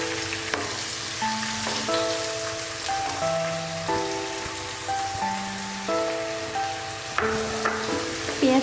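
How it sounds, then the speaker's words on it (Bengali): Chopped onions and green chillies sizzle steadily in hot oil for a fish curry, a dense close crackle running throughout with no voices, under quiet instrumental music. "পেঁয়াজটা ভাজা হয়ে গেছে"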